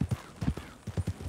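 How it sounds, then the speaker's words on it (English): Horse hooves clip-clop in an irregular rhythm of paired low thuds in Red Dead Redemption 2 (RedM), close and fairly loud, with no clear whinny. "Bloody horse."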